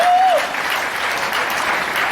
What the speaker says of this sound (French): Donc vraiment, nous devons l'applaudir.